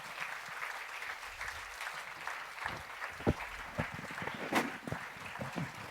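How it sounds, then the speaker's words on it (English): A conference audience applauds speakers returning to the stage, a dense steady clapping from a crowd in a hall that holds throughout, with a few louder claps and a whoop near the end. "I would like to ask all speakers back on stage for a final applause"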